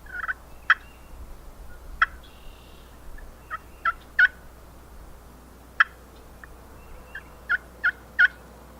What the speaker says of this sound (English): this tree call, just a little clucks.